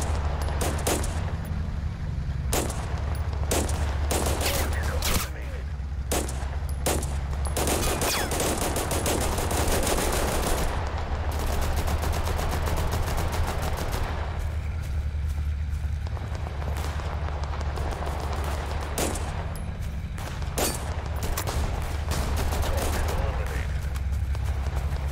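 Gunfire in the shooter game Total Conflict: Resistance, with repeated loud sharp shots and bursts spread across the whole stretch over a steady low rumble, some clustered in rapid volleys, while a player talks now and then.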